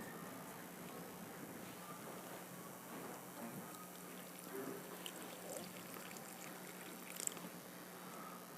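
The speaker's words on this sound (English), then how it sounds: "then I'll add the water in and add water as I need it" Water is poured and trickled into a dry clay mix for Jemez Pueblo pottery, a faint, soft splashing and dribbling with light handling noises and a small clink near the end.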